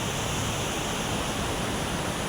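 Broadband rushing of river water flowing, steady and continuous at a fairly even level throughout, with no voices over it.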